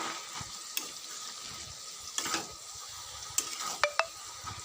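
Mixed vegetable chorchori of potato, eggplant, ivy gourd, bori and yardlong beans frying in a pan, a soft continuous sizzle broken by several sharp scrapes and clinks of a spatula stirring against the metal.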